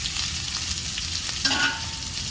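Onion, garlic and curry leaves fry in hot oil for lemon rice, a dense close crackling sizzle with a brief scrape of stirring partway through, no voices.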